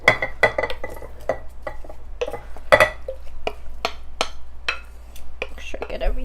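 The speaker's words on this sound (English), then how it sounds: "You're just gonna dump your steak tips in with your salsa." Steak tips for fajitas are dumped into a bowl of salsa, giving scattered close clinks, taps and wet scrapes against the bowl.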